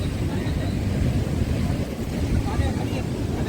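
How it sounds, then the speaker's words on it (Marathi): Loud, continuous roar of a rough monsoon sea at Ratnagiri, India, with heavy wind buffeting the microphone, waves rolling in one after another without a break. "एका पाठोपाठ एक येतच राहत आहेत लाटा"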